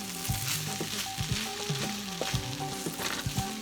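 Egg fried rice sizzles steadily in a hot pan while it is stir-fried. Repeated scraping strokes from the spatula cut through the continuous frying hiss, close and fairly loud, with no voices.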